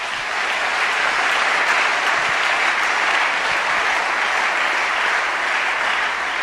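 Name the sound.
congregation applauding the Lord in church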